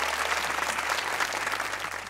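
Applause from a studio audience on a cricket talk show, a steady dense burst of clapping with no voices over it.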